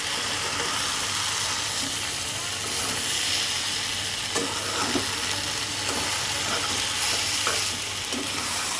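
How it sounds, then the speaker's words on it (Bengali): Fried katla fish being stirred into vegetables in a pan for a Bengali ghonto with Malabar spinach makes a continuous sizzle, with intermittent scraping stirs and a low steady hum beneath. "ভেজে রাখা মাছটা এবার একটু সবজির সাথে মিক্স করে দেবো"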